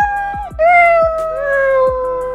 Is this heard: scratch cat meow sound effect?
yes